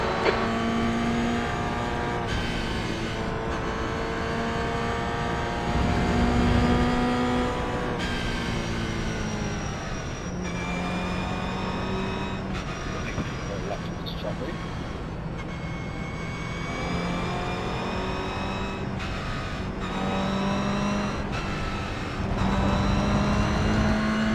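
A GR Cup race car drives a warm-up lap at Road America in the iRacing simulator. Its engine drones steadily and loudly through repeated upshifts and downshifts, with pitch climbing and dropping between gear changes and no speech over it.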